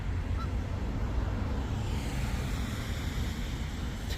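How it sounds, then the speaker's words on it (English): Canada geese honking outdoors near the Rhode Island State Capitol in Providence, a continuous low rumble of wind or traffic filling the scene with faint calls mixed in rather than distinct loud honks. "Is he gonna chase the Canadian geese?"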